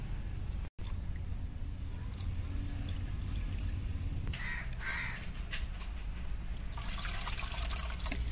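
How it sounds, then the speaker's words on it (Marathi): Lentils are washed by hand in a vessel of water, a continuous close sloshing and trickling with swirling splashes, briefly cut by a gap near the start, with no talking. "ते उकळेपर्यंत आपण डाळ धुवून घेऊयात।"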